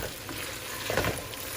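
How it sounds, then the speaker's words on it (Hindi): Chopped onions fry in oil in a kadhai, giving a faint, continuous sizzle with a few soft stirring scrapes near the middle. No voices are heard. "अपनी कढ़ाई में ऑयल डाल के प्याज फ्राई करेंगे।"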